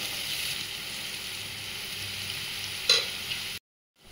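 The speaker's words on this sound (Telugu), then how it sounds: "చూడండి, ఈ విధంగా ఆనియన్స్ బాగా ఫ్రై అవ్వాలండి." Onions frying in oil for mutton keema curry give a steady close sizzle with soft stirring scrapes and one sharp clink near the end, after which the sound cuts to silence.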